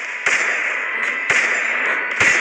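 Gunshots from a battle royale video game crack out as three sharp, loud bursts spaced about a second apart, over a steady bright background hum from the game.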